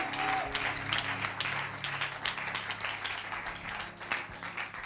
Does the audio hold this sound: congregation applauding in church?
yes